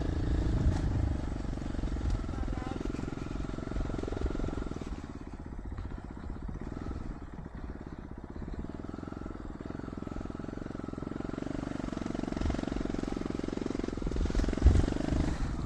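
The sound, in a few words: dirt bike engine on a trail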